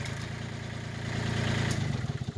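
Tractor engine chugging close by while pulling fencing, a steady low rumble that swells slightly and pulses toward the end.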